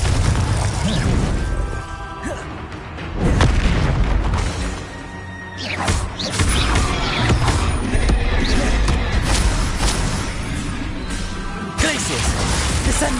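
Repeated spell blasts and crashing impacts from Confringo and other spells in Hogwarts Legacy combat, dense and loud throughout, with bursts, booms and creaking debris layered over game music and effects.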